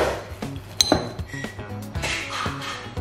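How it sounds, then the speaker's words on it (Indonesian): Spoon clinking and scraping against a bowl while stirring fu yung hai egg mixture with sliced green onion, a few sharp knocks then steady soft mixing, close and alone. "Terus kita aduk dulu."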